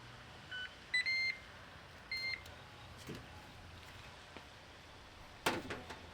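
Electronic timer beeps from a Ninja Woodfire grill during a ribeye reverse sear: a few short, bright tonal bleeps in quick clusters, then a sharper burst near the end, over quiet background hiss.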